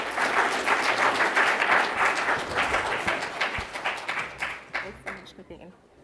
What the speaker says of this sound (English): Please give a huge applause to Dr. Satyapal.